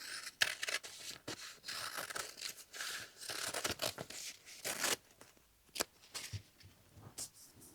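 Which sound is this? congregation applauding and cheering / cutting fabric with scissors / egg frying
cutting fabric with scissors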